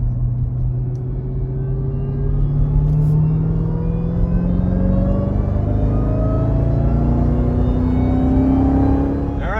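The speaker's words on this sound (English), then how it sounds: "Now I can hear the whine more and not the exhaust. So let's give it one more pull." A Jeep Grand Cherokee Trackhawk with its mid-muffler removed accelerates hard, deep exhaust rumble rising steadily with a climbing supercharger whine layered on top, loud and continuous throughout.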